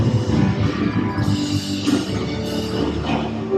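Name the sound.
cruise ship embarkation celebration crowd noise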